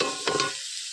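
Onions frying in a pan with salt while a Marathi moringa-flower vegetable dish is cooked, a soft sizzle with a brief stirring scrape near the middle, then tapering off over about a second.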